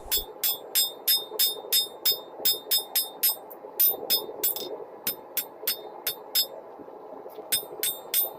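Blacksmith's hammer repeatedly striking a rebar knife blank on an anvil, with sharp, ringing metallic blows in a steady rhythm of roughly two or three hits per second, close and loud, with short pauses between runs.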